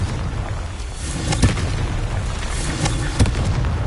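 Confringo blasting-curse explosions in Hogwarts Legacy: two distinct booming bursts land about two seconds apart over a dense rumbling game background.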